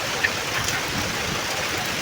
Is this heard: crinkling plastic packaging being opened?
no